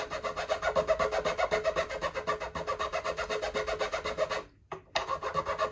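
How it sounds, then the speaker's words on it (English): A file rasps in quick, steady back-and-forth strokes as it cleans the nut slot of a light, soft-wood Antoria Soundmaster guitar, close and continuous with a brief pause near the end. "I'm going to give the nut slot a clean up here"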